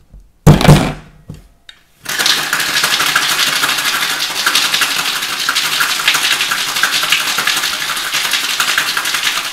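A Cuba Libre with lime is shaken hard in a cocktail shaker. A few sharp thunks and clinks come first, then a loud, continuous rattling wash of ice that keeps going to the end.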